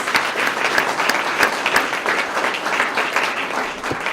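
Audience at a Sarasota Police Department swearing-in ceremony applauds the police command staff lieutenants, dense steady clapping from a sizeable crowd lasting the whole stretch.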